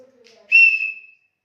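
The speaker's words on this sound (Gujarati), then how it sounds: "સિસોટી છે છોકરા માટે" A handmade bamboo toy whistle gives one short, clear, high-pitched toot, preceded by faint murmuring.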